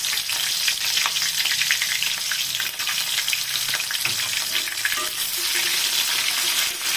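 Chopped onion and a few black peppercorns sizzling in hot oil for pilaf, a steady loud frying hiss with occasional stirring scrapes and crackles.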